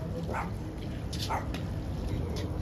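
A dog playing at Windsor Castle gives a few short, faint yips and barks, somewhat distant, over steady outdoor background noise.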